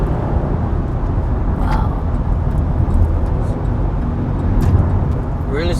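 A 2019 Chevy Blazer RS accelerates in sport mode, giving a steady, full engine and road rumble inside the cabin. A passenger briefly exclaims partway through.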